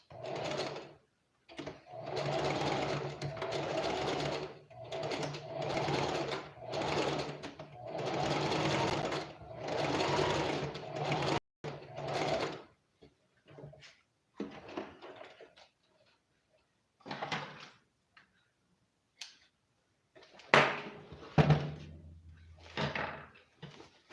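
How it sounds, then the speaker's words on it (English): Sewing machine running a zigzag stitch to attach an elastic band onto pants: several long, even bursts of stitching separated by short pauses, then scattered shorter runs and handling knocks near the end. "I said zigzag stitch"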